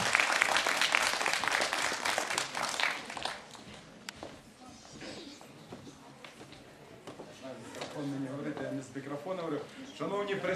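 An audience at a professions quiz tournament applauds in a steady, moderately distant patter of many hands, which fades as the clapping thins out and a voice begins speaking over the end.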